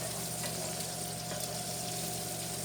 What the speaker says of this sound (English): I'm going to add my onions to the bacon